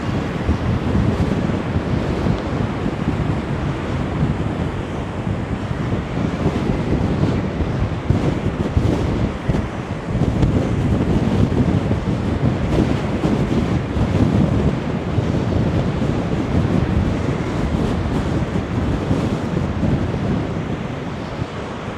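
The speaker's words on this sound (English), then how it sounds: "It is extremely windy." Strong wind buffeting the microphone over rough sea surf along Blackpool promenade, a loud, continuous roaring rush that swells and gusts throughout with no voices.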